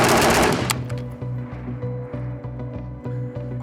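A PSA 5.56 Krink rifle fitted with a muzzle brake fires one sharp, loud blast, then a rapid rhythmic string of shots follows in quick succession.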